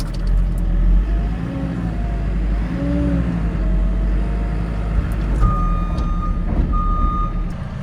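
A New Holland TM320 tractor reverses on a farm while mucking out, its engine rumbling steadily under a repeating reversing beep, with a higher tone sounding near the end.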